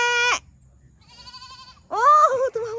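A goat along a mountain road between Baguio and San Juan, La Union, gives two loud, wavering bleats separated by a quieter drawn-out call, and a human voice seems to imitate the bleating.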